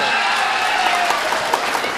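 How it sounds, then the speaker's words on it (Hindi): Audience applause at an all-India mushaira in Meerut, a dense, continuous crowd clapping, loud and close, with a few sharper individual claps poking through near the end. "अगर अच्छा लगा हो तो तालियां जोरदार होनी चाहिए।"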